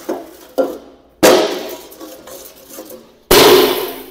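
A pane of glass being scratched during a polishing demonstration, then accidentally broken, gives sharp close impacts and loud shattering cracks: two smaller knocks followed by two heavy crashing bursts with ringing glassy decay.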